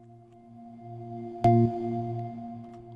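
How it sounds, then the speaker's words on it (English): Korg M1 organ tone recorded with reverb and played reversed, a sustained chord swelling gradually, broken midway by one short, sharp transient, then continuing softly. "I'm going to reverse that audio I've just recorded."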